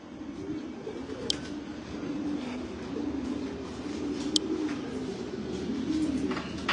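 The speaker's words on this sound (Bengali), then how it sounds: "আরো কয়টা কবুতর ছাড়ি, যেহেতু কবুতর গুলা বের হয়ে গেছে" Racing pigeons cooing after release, a soft rolling coo repeating steadily over quiet outdoor background, with a couple of sharp short chirps, fairly faint and no speech.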